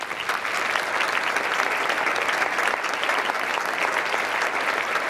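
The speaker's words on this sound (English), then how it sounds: "Please join me in one more round of applause for all of our award winners this evening." Sustained applause from an audience at an awards ceremony, steady and loud with dense clapping throughout and no pauses.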